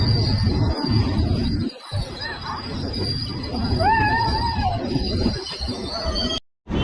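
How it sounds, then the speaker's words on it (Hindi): A passenger train running from the Dibrugarh side toward Bangalore arrives at a busy railway station platform, its wheels squealing and rumbling loudly up close amid crowd noise. "डिब्रूगढ़ के साइड से आ रही है ट्रेन, बेंगलोर जा रही है।"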